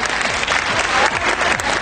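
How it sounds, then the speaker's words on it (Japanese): Dense, loud applause from a crowd at a Link Tochigi Brex basketball fan appreciation event, a continuous wash of clapping throughout the short stretch with no voices standing out. "拍手お願いします"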